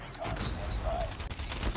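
Gunfire in Call of Duty Mobile rattles continuously through a short stretch, a steady fusillade of shots with a voice talking over it.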